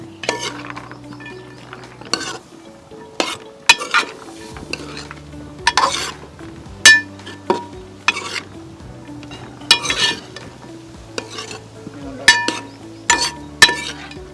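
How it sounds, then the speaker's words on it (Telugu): Washed green peas go into a pot for a millet biryani, followed by repeated spoon stirring and sharp clinks against the metal pot over a low sizzle, close up and with no talking. "ఇప్పుడు మనం బఠానీలు వేసుకుందాం. పచ్చి బఠానీ కడిగి పెట్టుకున్న పచ్చి బఠానీ."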